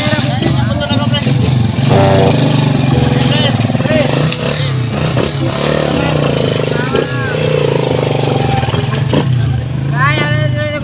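An automatic scooter-type motorcycle runs with a steady mid-pitched engine drone and occasional revving, close by and continuous, with people talking loosely over it throughout.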